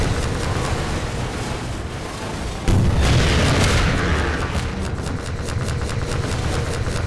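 A rocket explosion in Half-Life 2, played in VR, lands as a sudden loud deep boom partway through, cutting into steady rumbling game noise and then leaving a dense, roaring wash that slowly fades.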